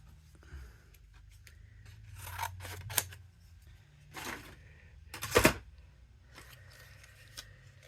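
Scissors cut brown paper for the rabbit on a handmade Easter card, giving a few scattered, crisp snips close by, with quiet handling in between and no talking.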